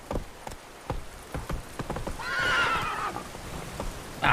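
A horse in a video game whinnies loudly in the middle, amid rhythmic hoof clip-clops of galloping, with close, distinct hoofbeats throughout.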